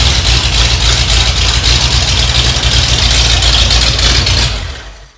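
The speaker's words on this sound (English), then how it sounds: "Got a great idle too." A hot rod engine idles close by, a loud steady rumble with an even, lumpy pulse that holds for several seconds before cutting off abruptly at the end.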